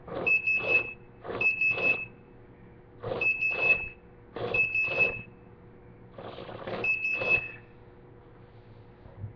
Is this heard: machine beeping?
yes